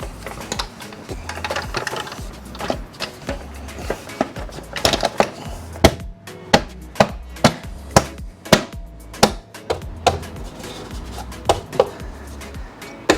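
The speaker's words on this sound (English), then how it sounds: "you can hear it click into place" A series of sharp plastic clicks and snaps, coming faster and more regularly toward the end as a Tesla Model Y wheel cover is pushed into place, close by.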